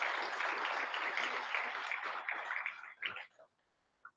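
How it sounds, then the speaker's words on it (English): A conference audience at an awards program applauds steadily for about three seconds, a dense roar of clapping that thins out and stops, leaving a few scattered claps and a brief voice near the end. "Let's give him a round of applause"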